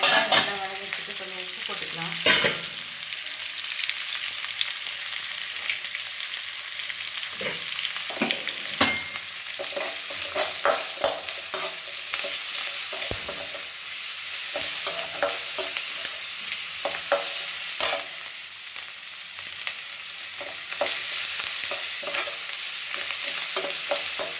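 Food sautéing in a pan before tomatoes go in, a constant hiss of frying with frequent scraping and knocking stirs of a spoon, close by and loud, with no talking.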